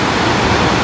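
Grojogan Sewu waterfall at Tawangmangu, about 81 metres high, pouring as a loud, steady broadband rush of falling water heard close by, with no break in the roar.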